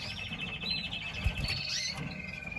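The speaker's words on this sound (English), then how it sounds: "Mosaic redback carrier pearl. Beautiful bird." A mosaic redback carrier pearl bird chirps in a bird room, its bright, repeated tweets close by over steady low background noise.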